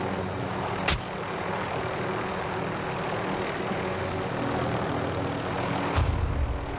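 Airplane engine droning overhead in the Warzone video game, a steady loud broadband roar that holds throughout, with brief clicks and thumps near the start and end.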